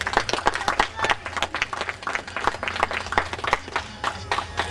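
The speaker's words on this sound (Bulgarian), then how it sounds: "Аплодисментите ви са за тях." Audience applause at a Bulgarian folk music award ceremony, with dense, continuous clapping from many hands in a hall. The clapping rises and falls slightly in strength throughout, with a low murmur beneath it.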